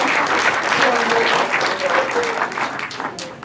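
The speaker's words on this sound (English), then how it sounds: "Let's clap for those beautiful angels for that gift" Audience applause for a choir at the launch of St. Thorlak Tumaini Autism Center, a steady, dense clapping that fills the room and holds at full strength throughout, with a little crowd murmur beneath it.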